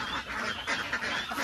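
Several domestic ducks quack in quick, overlapping bursts at feeding time, close by and fairly loud, over a noisy outdoor background.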